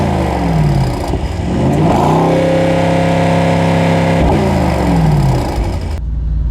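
A Mercedes-AMG GT55 engine, heard from inside the cabin, climbs steadily in pitch as the car accelerates, holds a loud strained drone, then eases off before cutting out near the end.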